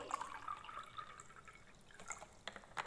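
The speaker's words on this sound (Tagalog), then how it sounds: "Lagyan natin ng tubig." Water trickles and splashes into a glass in a quiet room, a short, soft pour with small drips near the end.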